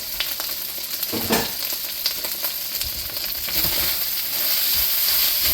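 Beef fried rice sizzles in a pan while being stirred, steady frying hiss with scraping and clinking of the utensil, a few louder scrapes along the way, close and with no talking.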